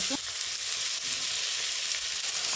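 Ground ginger paste sizzles steadily in a hot pan of cooked-down spices and tomato, a close, continuous frying hiss with faint stirring and no talk.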